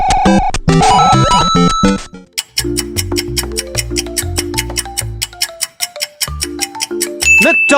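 McDonald's audio logo: a short, bright jingle of rising tonal notes, then a longer rhythmic passage of repeated plucked and bass notes with percussive hits, ending in a quick rising flourish, loud and alone without speech.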